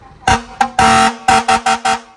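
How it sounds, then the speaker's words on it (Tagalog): Loud truck air horn blasting in a choppy series of seven bursts, a couple long and the rest short, close by. "Pwede tayo sa fire air horn. Fire air horn muna, Rising."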